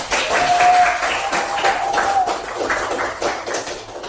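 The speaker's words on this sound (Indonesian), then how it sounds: "Ya, tepuk tangan buat kita semua." A classroom of students claps after a presentation, a steady patter of applause with a voice speaking over it.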